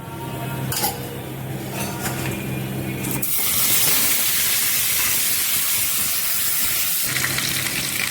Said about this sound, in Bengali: এবার পটলের আলুগুলো আমরা ভালো করে ভেজে নেব।